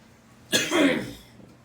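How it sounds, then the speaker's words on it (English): A single short cough bursts out close and fairly loud, a rough throat-clearing rasp that trails off quickly against a quiet workshop background. "Random bit of coughing."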